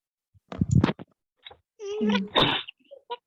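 Someone sneezes in a Ukrainian-language school lesson, a sharp close burst with short noisy sounds before and after, loud against an otherwise quiet classroom.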